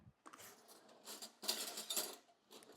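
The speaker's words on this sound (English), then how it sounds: "we'll stir this up" A big spoon stirring overnight oats in a container, giving soft scraping and clinking against the sides in irregular bursts, close and fairly quiet, with no talking.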